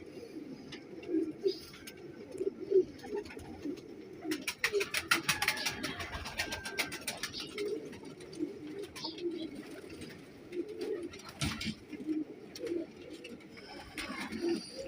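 Pigeons, a prized high-flying breed kept in a loft, coo steadily with repeated low, soft calls close by, joined by occasional chirps and a brief burst of fluttering wing noise.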